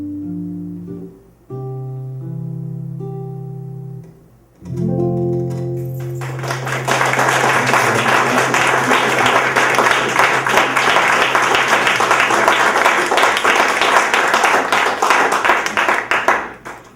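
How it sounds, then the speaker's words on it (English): Sustained audience applause at a book launch party, rising after a few seconds of fading singing and music, then dense clapping from many hands that continues steadily to the end. "How about another round of applause for Chris Vasquez?"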